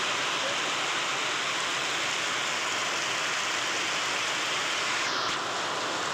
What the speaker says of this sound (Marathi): परतीचा पाऊस आहे आता